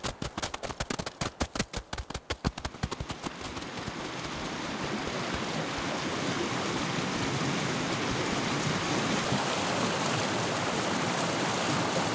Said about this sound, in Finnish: Siinä se Liesijoki virtaa. Siinä on aika paljon vettä nyt, kun lumet sulaa niin kovalla vauhdilla.